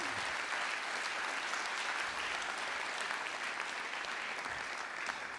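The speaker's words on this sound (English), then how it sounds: "Would you give him and his team a nice round of applause, please?" Steady applause from a large audience, dense and continuous clapping filling the whole stretch at an even level.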